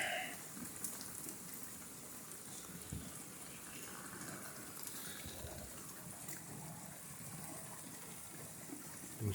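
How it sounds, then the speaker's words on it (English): Steady outdoor rain with gusting wind over a garden of rhododendron and broadleaf plants, a constant broad wash of sound throughout, with no talk. "It's gone back to just rain now."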